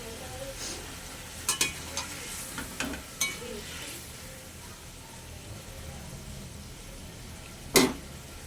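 Egg curry simmers low and steady, with a few soft clinks and plops as fried eggs go into the pot, then one sharp clatter near the end.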